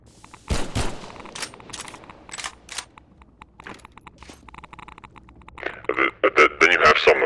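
A pistol in Garry's Mod with the Half-Life: Resurgence addon, fired in quick one-handed bursts of sharp separate shots, spaced at first, then clustered into a fast volley near the end.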